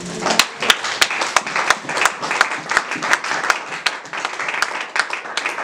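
A church congregation at a Sunday service applauds together, a dense run of close, sharp claps with a steady rhythm throughout.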